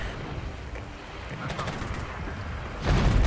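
Off-map artillery fire in the strategy game Regiments, a heavy boom landing near the end after a stretch of distant battle rumble and scattered crackle.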